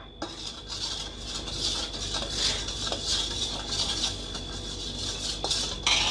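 Salt being stirred into a kitchen cleaning solution with a spoon, a steady scraping and rubbing against the container with a faint ringing tone and a few light clinks, close up and without talk.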